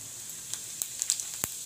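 Cumin seeds sizzling in hot oil in a kadhai: a soft, steady hiss broken by sharp little pops and crackles at irregular intervals, close and faint, with no voices.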